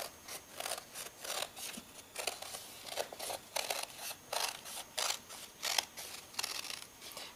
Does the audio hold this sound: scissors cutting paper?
yes